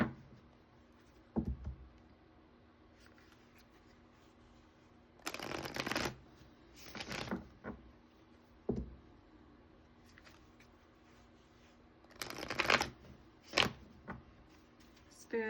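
Love Oracle cards are shuffled in a quiet room, with soft riffling bursts and taps coming in several separate rounds close by.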